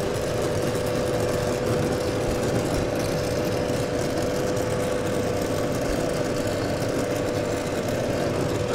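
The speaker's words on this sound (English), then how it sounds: "Can I have a go at welding?" Steady hum and hiss of welding on an aluminium fuel tank for a Triumph Tiger 90 motorcycle, continuous and fairly loud with a constant tonal buzz throughout, no talking.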